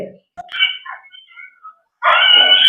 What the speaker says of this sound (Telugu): మూడు కుక్కలు పీకేస్తున్నాయి పిల్లని